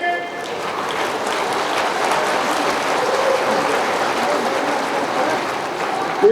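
Audience at a Hindi poetry recital in Patna claps steadily and loudly throughout, a dense continuous wash of applause with no pauses.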